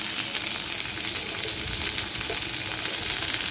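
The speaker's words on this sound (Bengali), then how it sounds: "এগুলো আমি সব ভেজে নেব" Garlic, chili, ginger and onion fry in a pan with a steady, close sizzle, a soft crackling hiss that runs unbroken throughout.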